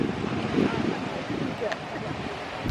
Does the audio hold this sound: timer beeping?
no